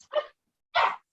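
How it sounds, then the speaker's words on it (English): A dog at home gives two short sharp barks, close and loud with a brief gap between them, heard in isolation during a remote meeting. "Are your dogs fighting?"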